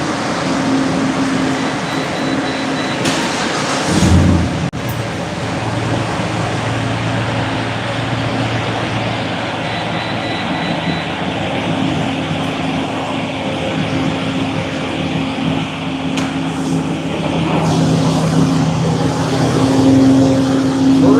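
A 2004 Pontiac GTO engine running steadily on a dyno for a second pull, with a loud sustained drone, close, a brief surge near the start and a cooling fan blowing underneath.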